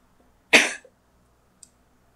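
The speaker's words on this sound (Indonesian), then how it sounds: "saya agak batuk, jadi mohon maaf" One sharp cough in an otherwise quiet room, followed a moment later by a small click.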